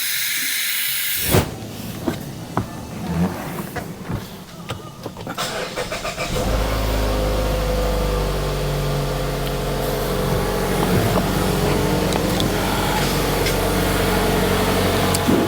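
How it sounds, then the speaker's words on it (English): A Mazda car engine idles steadily after starting while air is bled from its freshly refilled coolant system, a loud continuous hum with hiss following some clattering and handling noise at the start. "I got the thing running, bleeding off any air pockets in the cooling system."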